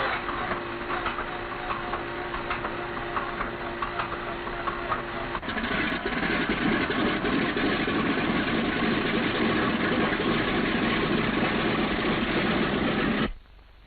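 A Boeing B-17 bomber's radial engine, number 1, runs steadily at idle as it starts up during ground operations, a loud, continuous droning rumble that thickens partway through and then cuts off abruptly near the end.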